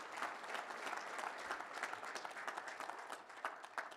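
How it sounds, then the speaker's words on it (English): An audience at a workplace safety kickoff event applauds the safety award nominees, a steady, moderately distant patter of many hands clapping with a few sharper claps standing out. "So round of applause for all the nominees."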